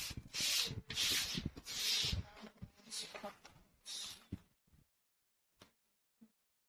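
Scissors or shears snip and rub through fabric and a paper pattern while a dress is being cut out, several loud rasping strokes close by, then a few faint isolated snips, with a voice briefly in the background.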